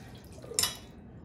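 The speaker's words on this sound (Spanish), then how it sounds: "Y esto dejamos que drene un poco el agua." Liquid draining from a freshly opened can of chickpeas, a short soft trickle with a brief metallic clink partway through, close and fairly quiet.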